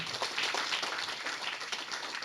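An audience at a tech meetup pitch event applauds a presenter with a dense, steady patter of many hands clapping together, moderately faint and continuous throughout.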